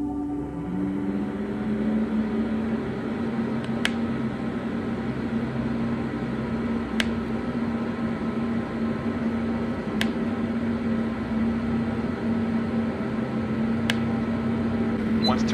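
A Dreo 1500W indoor space heater runs with a steady fan whoosh and a low electrical hum that rises at the start, with faint periodic ticks on top, close and continuous.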